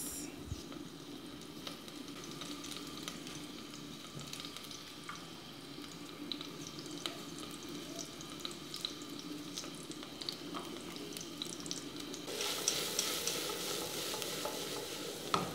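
Rice fries in a pan with onion and garlic, a soft steady sizzle with scattered stirring clicks, growing brighter and louder near the end.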